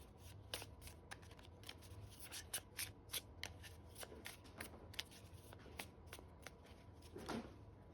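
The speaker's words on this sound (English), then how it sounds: "All right, let's see how they shuffle." Oracle cards shuffled by hand in a rapid series of crisp, papery flutters and snaps, fairly close, with no talking.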